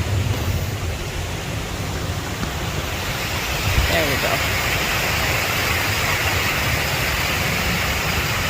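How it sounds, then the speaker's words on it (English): A waterfall in the woods near the Delaware Water Gap roars as a constant, dense rush of water, with someone speaking briefly partway through. "let me walk down and show you the waterfall better"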